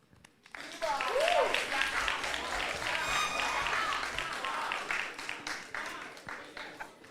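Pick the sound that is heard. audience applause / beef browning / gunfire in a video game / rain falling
audience applause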